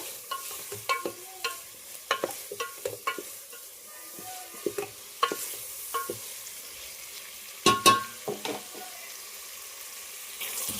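Chopped tomatoes with chili powder, turmeric and salt are stirred in a pan for a chicken curry with tamarind leaves: irregular spoon scrapes and knocks, close and fairly quiet, over a light sizzle.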